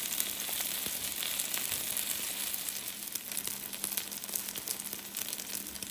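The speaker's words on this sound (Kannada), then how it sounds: "ಚೆನ್ನಾಗಿ ಡೀಪ್ ಫ್ರೈ ಆಗಿ 2 ಸೈಡೂ." Marinated fish deep-frying in oil on a tava gives a continuous, bright sizzle with small crackles and pops, steady and close, with no talking.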